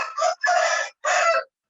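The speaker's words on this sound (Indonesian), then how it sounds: "Jadi kalau ada suara-suara ayam, mohon maaf Bapak Ibu sekalian." Chickens from a nearby coop crow and cluck loudly and close up, in three long bursts with short breaks between, heard alone without any speech.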